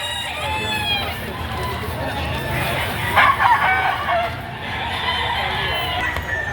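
A young gamecock crows midway through the busy chicken market at Padre Garcia, Batangas, a short raspy call rising over a constant murmur of people talking and general crowd noise.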